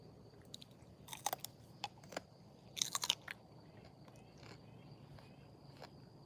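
Someone bites and chews a crunchy vegetable picked in a home garden, giving a few sharp crunches close to the mic over quiet outdoor background.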